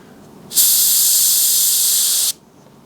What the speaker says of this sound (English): The further you pull back, the softer your spray.